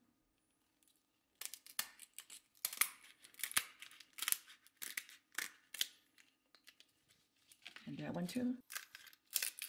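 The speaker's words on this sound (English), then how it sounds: "I'm gonna cut in the center." Scissors snipping through a lobster tail shell for an air fryer butter garlic dish, a series of close, sharp crunchy cuts with a short rustling scrape near the end, a voice speaking briefly.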